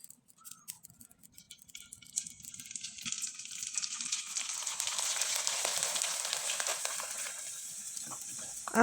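Rice flour flower pitha frying in hot oil, a faint bubbling hiss at first that swells into a steady, crackling sizzle, with no talking over it.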